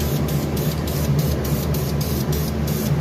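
Aerosol spray paint hissing onto a custom turbo exhaust part for a Tiburon project, a close, steady spray broken into short regular bursts across three seconds.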